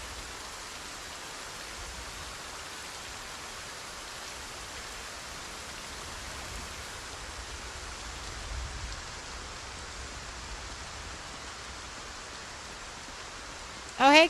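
Rain falls in the video game Project Zomboid, a steady, even hiss of downpour filling the whole stretch with no change in intensity, ending with a short sharp game sound.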